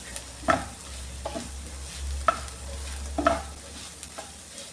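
A carrot and green bean mezhukkupuratti is stirred in a pan, a few distinct scraping strokes over a steady low sizzle, close and fairly quiet.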